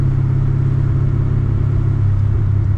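A supercharged 900-horsepower Z car revving on a downshift during a drive, a loud, steady, close engine drone with a heavy low rumble and no talking.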